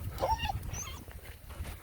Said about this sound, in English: My goodness, look at the puppies.